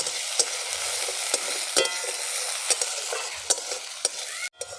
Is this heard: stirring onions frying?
yes